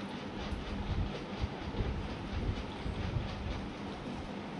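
Steady low rumble of a train at Guwahati railway station, a broad continuous roar with faint rhythmic thumps, heard from nearby over a wind-buffeted outdoor platform with no talking.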